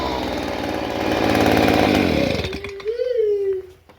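A Stihl BG 85 leaf blower engine roars loudly and steadily, then sputters and chokes down to a rough, uneven idle near the end.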